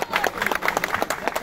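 Audience applause from people gathered at an association event in Durağan, Sinop: a short, steady burst of many hands clapping, fairly close and lively.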